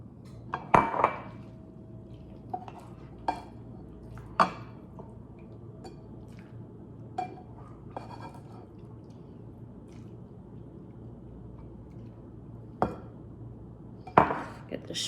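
Cooked shrimp, Miracle Noodles and vegetables are scooped out of a pot with clinking utensils against the pot, scattered sharp knocks and clatters separated by quiet stretches, close by, with no talking.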